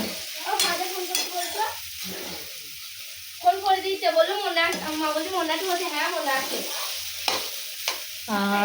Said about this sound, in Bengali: এখানে এই যে গাজর বিনস এগুলো ভাজা করছি